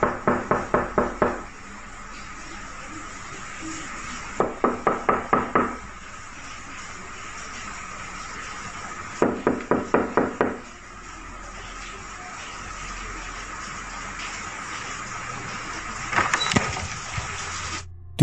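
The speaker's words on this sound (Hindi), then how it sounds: "हालांकि पिछली वीडियो के मुकाबले इसमें खटखटाने की रफ्तार थोड़ी ज्यादा थी।" Rapid knocking on a house's main door comes in several separate bursts, each a quick series of about five sharp raps, with pauses of a few seconds between them over a steady background hiss.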